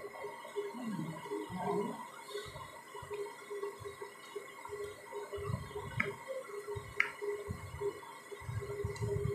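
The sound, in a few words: mixing palm fruit batter with powdered milk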